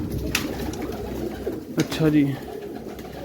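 Pigeons in a loft give a few low, soft coos close by, mixed with rustling and a brief spoken remark.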